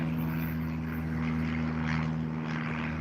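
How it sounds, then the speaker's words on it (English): An old propeller airplane drones steadily overhead, a constant loud engine hum with a low throbbing tone and no other voices. "Old prop ass plane, bro."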